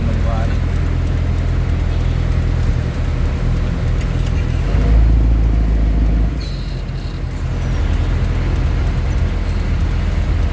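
Dense, loud city street traffic in Olongapo, a steady roar of cars, buses and trucks with a deep engine rumble and a brief air-brake hiss, under ongoing talk.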